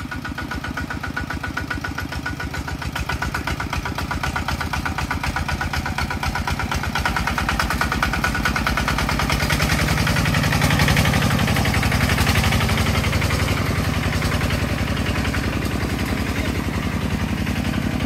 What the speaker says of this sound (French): Et là on entend le bruit du tracteur qu'on a pas mal avancé.